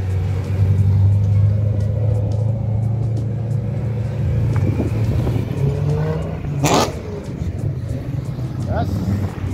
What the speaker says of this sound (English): Nice fat burnout for the boys there.